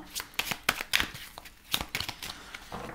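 A tarot deck is shuffled by hand for a reading, with a series of quick papery riffles and slaps in irregular bursts, close and clear, while a voice murmurs faintly underneath.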